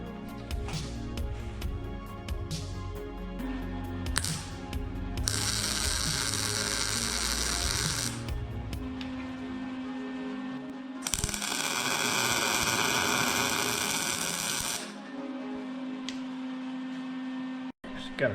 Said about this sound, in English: So I'm gonna tack those right there and then turn the frame over and weld it.